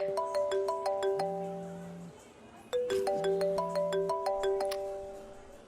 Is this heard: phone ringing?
yes